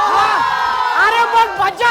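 Women at a lively Marathi television celebration event in Mulund cheer and shout together, with loud overlapping whoops and rising cries filling the space.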